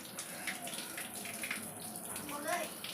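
Water runs steadily from a tap as a child bathes with soap, a soft continuous splashing wash with faint voices in the background.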